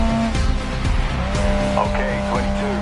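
Race car in the Grid Legends racing game, the engine revving hard while tires squeal in repeated skids, loud and close, with a voice talking over it.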